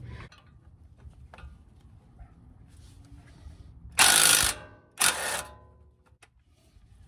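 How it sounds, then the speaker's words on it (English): A small impact gun loosens brake caliper bolts on a 2014 Toyota Tundra, two short loud rattling bursts about a second apart amid quiet workshop handling noises, with no talking. "I'm going to use my little impact gun"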